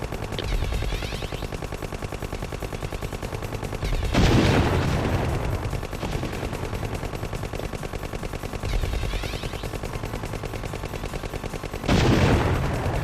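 Continuous rapid gunfire from the Contra video game runs throughout, loud and steady, broken by two booming explosion bursts a few seconds apart, with no talking.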